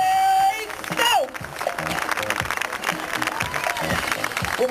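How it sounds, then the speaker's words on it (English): Audience applause at a live hypnotist show at an outdoor fair, a steady broad clatter of clapping from a crowd lasting throughout, with a brief tonal whistle near the start. "Huge round of applause for your stars."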